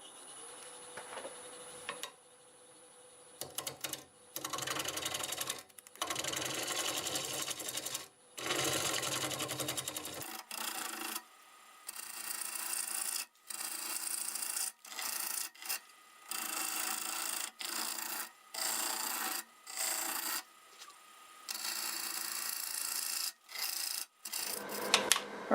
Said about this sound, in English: I'm probably going to take maybe a 1/4 inch off using a 1/2-inch bowl gouge